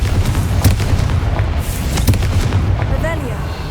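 A Confringo blasting spell explodes in the Hogwarts Legacy video game, giving a few sharp booming bursts close up, with a brief fiery crackle and a whooshing tail near the end.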